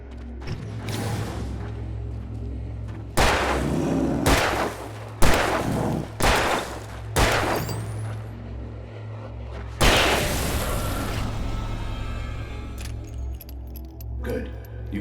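Gunshots in the horror game Alan Wake Remastered: a string of loud, sharp blasts spaced unevenly, several in quick succession and a final heavy one, with low background drone and spoken voice around them.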